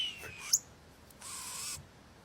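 An American blue jay imitating a hawk's call, heard as a faint descending whistled cry, followed by a brief sharp chirp and a longer harsh, raspy screech.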